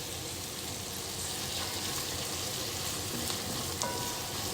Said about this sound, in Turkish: Tereyağın içine bu şekilde ayıklanmış bademleri koyuyorum